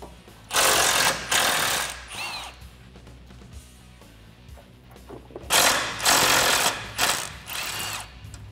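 A tool turning a 10 mm socket removes a bolt on a Jeep Wrangler JK during a suspension lift install, heard as loud, close bursts of rapid mechanical whirring in two clusters separated by a quieter pause.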